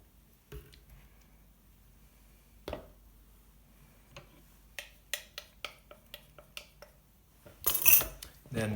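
A spoon mixes olive oil and tahini in a bowl, giving sparse, light clinks and taps that grow busier, ending in a brief louder scrape.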